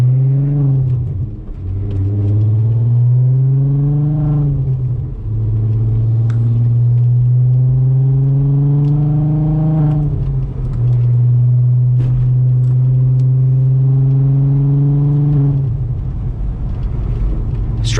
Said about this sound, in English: this muffler really does sound kind of good